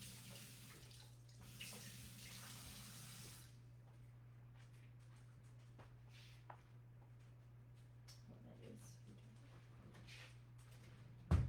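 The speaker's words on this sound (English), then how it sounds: "let me just wash my hands real quick." Tap water runs as hands are washed at a kitchen sink during a cooking demonstration, a soft, fairly quiet wash strongest over the first few seconds, then thinning, with a steady low hum beneath throughout.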